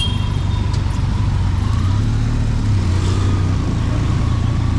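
Car approaching on a highway, a steady broadband road roar with tire and engine noise swelling slightly as it nears, continuous and fairly loud with no talking.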